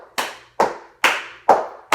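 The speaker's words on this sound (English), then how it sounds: "I'm going to use those basic ones with the stomping, the clapping, the patting, and maybe snapping." Body percussion claps and pats in an even rhythm, five sharp, close hits spaced about half a second apart, each one decaying quickly, with no talking over them.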